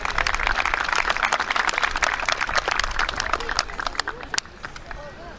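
Applause from an audience at a season-opening ceremony for a Bursa sports club, loud, dense clapping with crowd murmur that fades toward the end.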